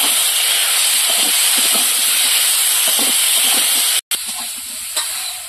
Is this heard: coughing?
no